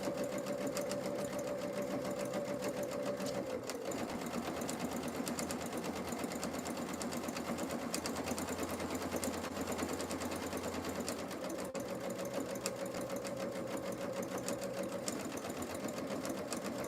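A sewing machine runs in a steady, quiet whir, backstitching at the start of a thread and then stitching slowly toward a corner, with brief pauses and changes in speed.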